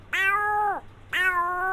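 A man imitates a cat, giving two drawn-out, rising-then-falling meows in quick succession, close and clear against a quiet background.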